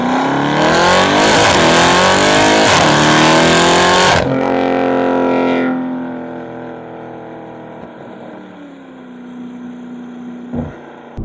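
A BMW M550i's V8 exhaust roars loudly as it revs hard while driving, then drops into a lower, steadier drone as the throttle eases off.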